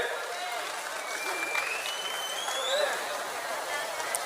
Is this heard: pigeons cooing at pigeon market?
no